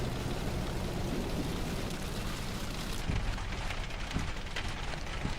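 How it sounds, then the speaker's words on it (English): Hail pelts down during a tornado storm chase, a dense, steady wash of patter and scattered harder hits that continues unbroken throughout, with no voices. "It's hailing."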